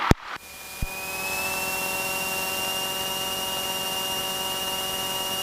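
Small airplane engine idling steadily while taxiing on the ground at an airport, a sustained droning hum with a high whine after a couple of brief clicks at the start, close and loud with no talk.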